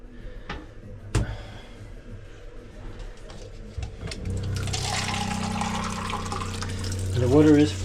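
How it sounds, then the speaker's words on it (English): Water runs through a boat's plumbing and drain after the fittings were adjusted, starting after a few knocks and clunks as a steady rushing flow that swells louder toward the end, close up with some background noise. "And the water is flowing in here better now."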